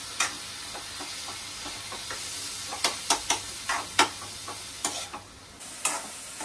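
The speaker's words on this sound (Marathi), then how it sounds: "कांदा पूर्ण लाल करून घ्यायचा आहे" Onions frying in a pan for prawn masala, a low steady sizzle broken by a series of sharp spatula scrapes and taps in an uneven rhythm, close by.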